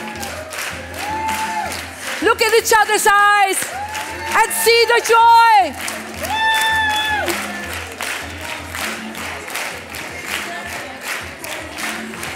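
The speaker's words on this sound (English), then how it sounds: "Come on, start clapping." Audience clapping along to upbeat dance music at a feng shui seminar, the steady clapping blended with the music and crowd cheers and whoops while someone talks over it.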